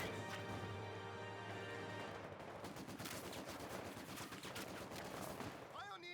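Machine gun fire in a Company of Heroes 2 battle, dense rapid bursts of automatic shots rattling continuously at moderate distance, mixed with other battlefield gunfire and crashes and a steady game hum.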